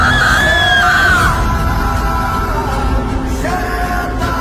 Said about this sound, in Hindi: तभी गुल्ली बुल्ली सोन को आगे से किसी की चिल्लाने की आवाज आती है।